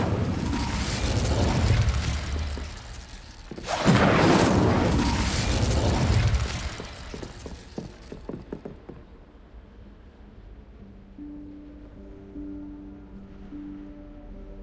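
A fire spell, Incendio, is cast in Hogwarts Legacy: a loud, roaring whoosh of flame surges and swells in a second burst. It then fades into crackles, with soft sustained music tones lingering afterward.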